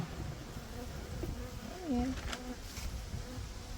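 Dense, steady buzzing of many honeybees around a hive, close and continuous, with a soft whirring hum throughout.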